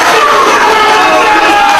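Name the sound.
wrestling crowd cheering for the hometown team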